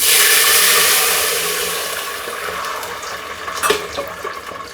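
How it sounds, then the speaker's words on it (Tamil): Water is poured into a cooking pot for basmati jeera rice: a loud, close gush that eases into a lighter trickling stream, with a few small splashes near the end. "தேவையான அளவு தண்ணி போட்டுப்போம்."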